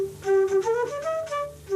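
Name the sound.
flute played through Moog synthesizer gear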